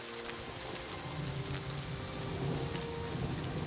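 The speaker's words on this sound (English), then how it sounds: "Hopefully I can get out of this rain." Steady rain falling in the video game Oblivion Remastered, a continuous even hiss with a faint low rumble beneath, holding at the same level throughout with no talk over it.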